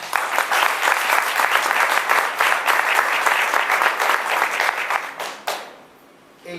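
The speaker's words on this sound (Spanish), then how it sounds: "Dar un aplauso al Señor." A church congregation applauds during a sermon with a full, sustained burst of clapping that stays dense and loud, then tapers off abruptly near the end.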